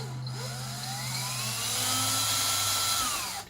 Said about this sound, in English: get my drill bit, so I could get a starter hole